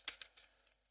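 Three quick keystrokes tap on a computer keyboard, close and fairly faint in a quiet room, with a softer fourth tap trailing after.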